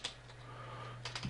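Keys tapped on a computer keyboard while entering a city name into a web browser search field, a few faint clicks at the start and a short burst near the end over a low steady hum.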